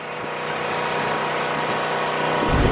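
Motorcycle engines idling and running at an outdoor motorcycle show, a steady dense mid-range drone close by with a slight rise near the end, no voices.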